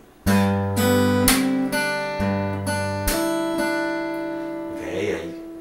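Fingerstyle acoustic guitar plays measure 25 of a song: a few plucked bass notes and strummed chords with slap accents ringing out clearly, alone and close, in a short phrase.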